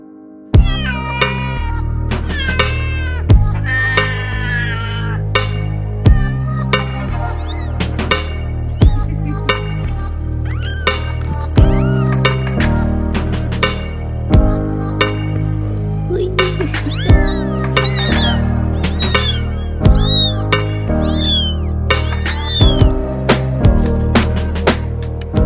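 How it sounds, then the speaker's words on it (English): A mother cat and her five newborn kittens meow repeatedly in many thin, high cries over an ongoing musical backing. The cries come close and rise and fall in pitch throughout. "our little Sombra gifted us 5 little cat babies."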